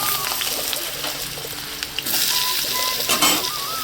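Potatoes hit a hot wok of oil with black cumin and fry with a loud, continuous sizzle, punctuated by metallic clinks and scraping of a utensil stirring against the pan.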